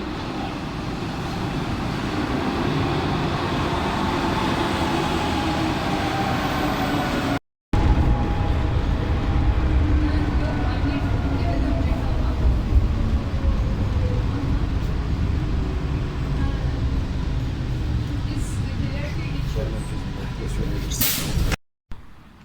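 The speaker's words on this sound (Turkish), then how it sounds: "şu anda metromuz geliyor" A metro train arrives at a station in Istanbul, a loud continuous rumble and rising rush of wheels and motors lasting about twenty seconds, briefly cut off before it settles.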